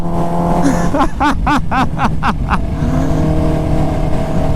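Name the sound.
supercharged motorcycle engine spooling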